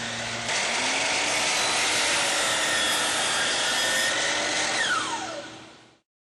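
A DEWALT miter saw spins up and slices through crown molding laid flat, beveled and mitered, a loud steady whine with the blade pitch dropping as it bites, then winding down to silence near the end.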